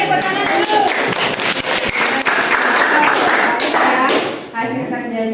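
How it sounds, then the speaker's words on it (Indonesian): Classroom applause from students, a loud mix of clapping and taps with thumps on desks, lively voices talking and calling over it until it briefly dips near the end. "tepuk tangan dulu"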